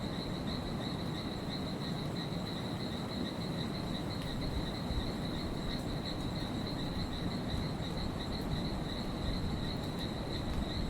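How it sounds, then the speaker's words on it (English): A dense, continuous chorus of frogs and insects calling together in the Amazon as light rain begins, a steady high trilling drone over a low rumble, loud and unbroken throughout. "The frogs excited that there are few drops falling."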